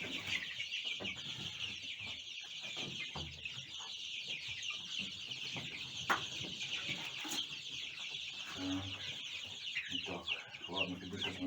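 Young chickens from an incubator brood cluck and chirp continuously in a coop, a busy layered chatter with occasional louder squawks, and a person talks intermittently underneath.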